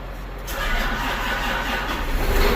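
A tractor engine cranks briefly and catches, settling into a steady low rumbling idle, loud and close, with no voices.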